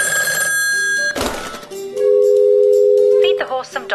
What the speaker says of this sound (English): Next chain, the phone is ringing.